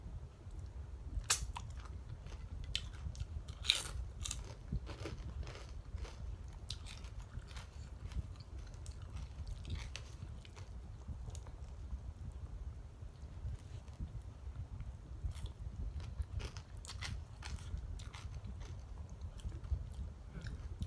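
Someone eating Thai pounded long bean salad with rice noodles and chicken skin; close, steady chewing and crunchy bites repeat throughout, with no talking.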